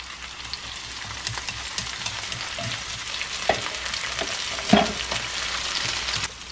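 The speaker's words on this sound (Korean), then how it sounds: "새우 넣겠습니다." Shrimp frying over low heat in a pan, with a steady broadband sizzle and a few sharp scraping clinks of stirring, close and continuous with no talking.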